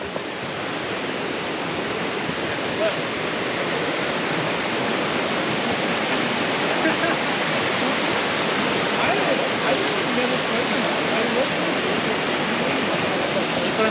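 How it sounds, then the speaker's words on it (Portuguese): Rushing water from a small waterfall under a footbridge on the Quarry Rock trail in Vancouver in spring, a steady, dense broadband roar that holds evenly and fairly loud throughout with no break. "Aqui a gente tem outra ponte com uma cachoeira, né? Tipo uma cachoeira que passa aqui,"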